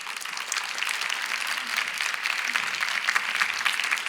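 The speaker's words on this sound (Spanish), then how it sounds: "El aplauso para despedir" Sustained audience applause in the Mexican Chamber of Deputies, a dense steady wash of many hands clapping at even loudness throughout, with no voices standing out.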